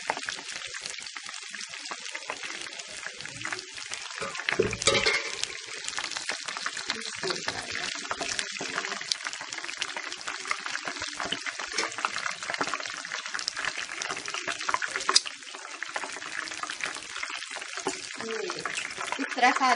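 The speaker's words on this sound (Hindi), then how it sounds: "ये वाले लेग पीस फ्राई हो चुके हैं, इन्हें मैं निकाल लेती हूँ और हम डालते हैं।" Chicken leg pieces frying in a pan for a home Eid meal, giving a continuous crackling sizzle with occasional sharper splashes and spoon clatter, while someone talks over it.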